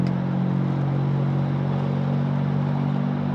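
A Mercedes ML320 W163 with a misfiring engine accelerates on the road. It makes a loud, steady, low engine drone heard from inside the cabin, with no talking.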